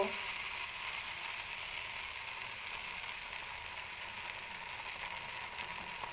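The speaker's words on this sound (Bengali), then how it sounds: "এটাকে দিয়ে আমি 1 মিনিটের মতো নেড়ে চেড়ে নেব।" Cashew paste is stirred into prawn malai curry masala cooked with sour yogurt in a pan, giving a soft, steady sizzle with faint scraping that runs evenly throughout without pause.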